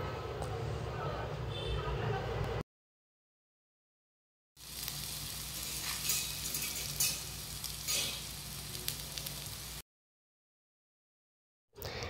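Jackfruit fritters frying in hot oil over a medium flame, a steady close crackling sizzle that runs in two long stretches broken by silent gaps, with talk heard alongside.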